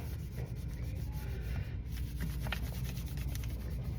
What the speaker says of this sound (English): if I just fold it, I can still use this piece, set it down, rub along here